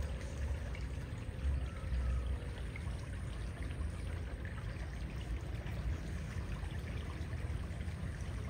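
River water flowing steadily below a riverbank, a constant close rushing wash with no pauses, heard on its own without voices.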